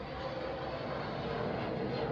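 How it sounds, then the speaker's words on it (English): A fixed-wing airplane passes close by near an airport, its engine drone steady and fairly loud throughout, heard as if through open windows and doors indoors. "So that was just a plane that just went by."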